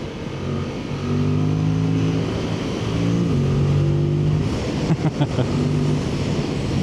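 A Yamaha MT-07 motorcycle's CP2 parallel-twin engine revs steadily, its pitch rising and falling through the throttle blips, loud and close with no talking.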